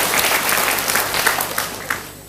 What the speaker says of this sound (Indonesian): Tepuk tangan untuk Ibu Dina.